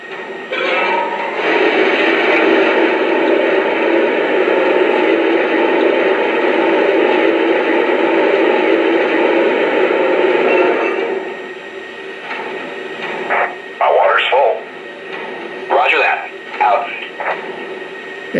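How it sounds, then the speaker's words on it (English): A loud, steady rushing of water filling the tender of a Lionel Brass Hybrid N&W K2 model locomotive pours for about ten seconds, then stops, followed by scattered clanks and thumps. "Here's the sound of water being added to the tender."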